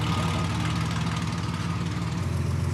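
A car engine idles steadily nearby, a continuous low rumble with an even, rapid pulsing and no voices.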